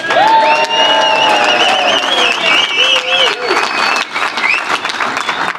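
Audience at a craft beer debate breaks into loud, sustained applause and cheering, with whoops and whistles riding over steady clapping that eases slightly toward the end.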